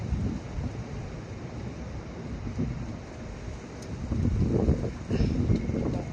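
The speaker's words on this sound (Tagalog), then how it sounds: "Kaya mahangin." Steady wind rushes and buffets against the microphone at Jumeirah Beach Residence in the UAE, a low rumbling roar that swells stronger toward the end, with no speech.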